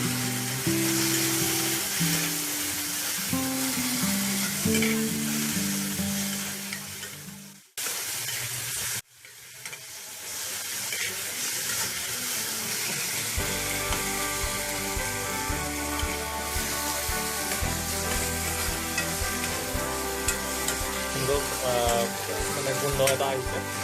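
Onions and ginger garlic paste fry in a pan for an egg curry, a loud continuous sizzle with stirring scrapes, broken by a short drop, then resuming alongside background music.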